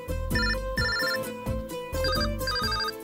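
A phone ringtone for an incoming call, playing a loud, bright electronic melody in repeating bursts with short gaps, close and clear with no talking over it.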